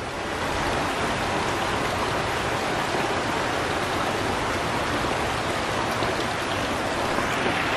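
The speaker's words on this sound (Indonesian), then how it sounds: "Ada pancuran." A water spout pours steadily into a clear natural koi pond stocked with jumbo koi and grass carp, giving a loud, continuous, even splashing rush close at hand with no pauses or talk.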